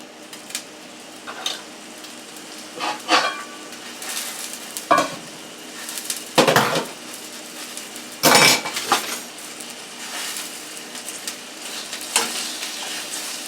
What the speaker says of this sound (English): Let's move them around so that all the oil gets on the sausage.